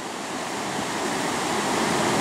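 Ocean surf rolling in at the beach in Belmullet, a steady broadband wash of breaking waves that swells slightly louder over a couple of seconds, with no voices.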